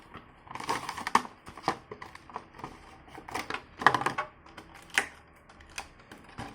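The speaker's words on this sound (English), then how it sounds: "let's rip open this box" Cardboard box for a Roblox Skylas 1:18 scale action figure being ripped open, a close run of crisp tearing, crunching and tapping bursts with irregular rhythm and no talk.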